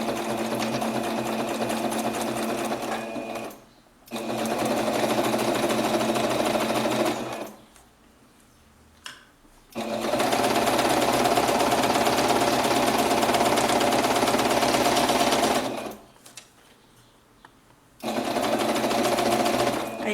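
A sewing machine stitches a fabric pencil case in three long bursts of steady whirring, with brief quiet pauses between them, loud and close.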